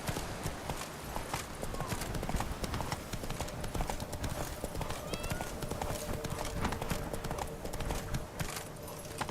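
Hooves of the horse Roach pound in The Witcher 3, a fast continuous galloping clip-clop that stays loud and close throughout, with a brief whinny-like sound and voices now and then over the rhythm.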